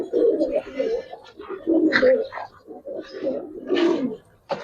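Giribaz coloring and Pankhi pigeons coo up close in repeated low, throaty rolling calls that come in bursts with short gaps, fairly loud, with faint higher chirps mixed in.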